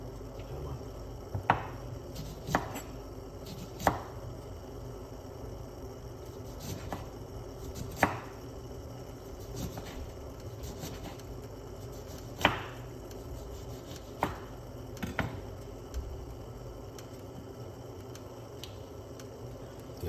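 A knife slices a lemon on a board, making sparse, sharp cuts spaced a few seconds apart over a quiet, faintly humming background.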